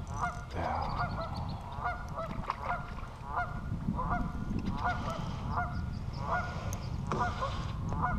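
A goose honks repeatedly in a steady series of loud calls near a nest on an upturned boat by the water, with a low rumbling background throughout.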